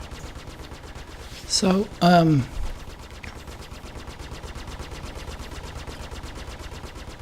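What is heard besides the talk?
spaceship gimbaled guns firing in Star Citizen video game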